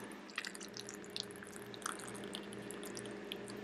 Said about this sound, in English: Everything's just bubbling in there.